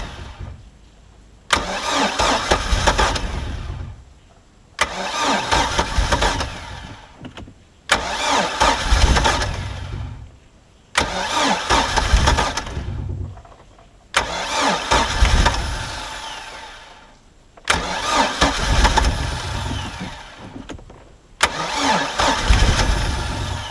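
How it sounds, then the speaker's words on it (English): A Mercury MerCruiser 3.0 boat engine on a Stingray, sitting unused for nine years, cranks in seven separate loud bursts of about two seconds each without catching, with short silent pauses between attempts and no talk. "It's trying to crank, but it won't."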